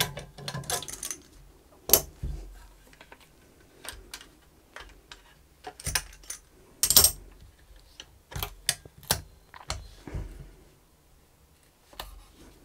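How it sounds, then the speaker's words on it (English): Clamps come off a guitar neck after a repair, giving faint scattered clicks, ticks and small knocks at irregular intervals in a quiet room, with no talking. "Everything is dry, that means that I can remove the clamps."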